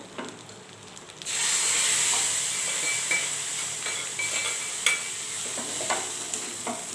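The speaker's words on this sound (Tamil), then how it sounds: "இப்போ நம்ம தாளித்து கொட்டியாச்சு" Spices crackle and sizzle sharply in hot oil, starting abruptly and holding a steady loud hiss, with occasional pops and a spoon stirring through the pan.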